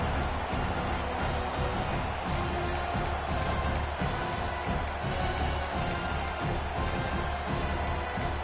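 Stadium crowd at a college football game, a dense steady roar of cheering voices filling the whole stretch, loud and continuous with no single voice standing out.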